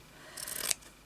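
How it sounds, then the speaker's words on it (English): A single quick snip of scissors cutting fabric for crazy patchwork, close and fairly quiet, lasting under a second in a still room. "Sonya, cut something else off."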